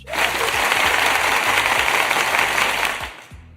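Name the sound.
applause sound effect played on a livestream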